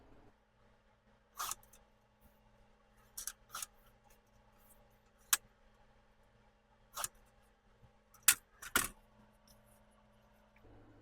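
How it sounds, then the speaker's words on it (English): Scissors trim paper edges for a mini album in a quiet room, about eight sharp, close snips coming in uneven bursts, some in quick pairs, over faint background hum with no talking. "So I'm just going to trim my edges and glue it down as is."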